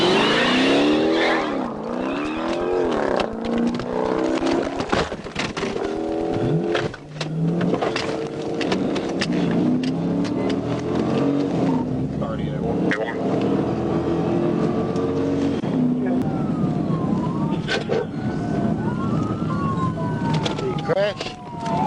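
A Dodge Challenger flees a police pursuit at night, its engine roaring loudly and continuously with rising and falling revs, a siren wailing in the background, and voices talking over it.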